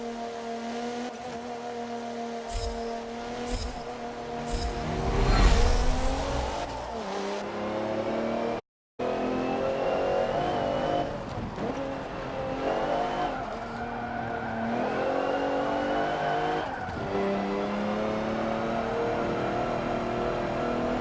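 Race car in Forza Motorsport 7 driven hard, engine revving and shifting with squealing, skidding tires, loud and close throughout, with one brief dropout midway.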